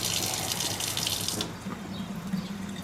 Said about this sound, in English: Run a little warm water in your drain